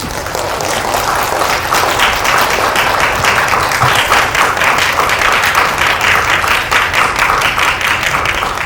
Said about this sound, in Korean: 큰 박수로 맞이 부탁드립니다.